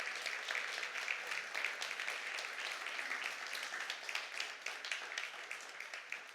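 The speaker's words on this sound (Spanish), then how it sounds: "Denle un aplauso fuerte a Jesucristo nuestro Señor" Church audience applauding loudly and continuously, a dense crowd of hands clapping with quick irregular claps throughout, fairly close and sustained without speech.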